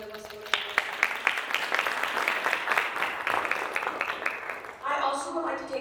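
An audience claps steadily for several seconds, with individual sharp claps standing out, then a voice begins speaking as it fades.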